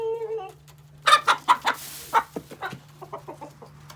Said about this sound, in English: The rooster is chasing one of my hens around, and she's hiding from him.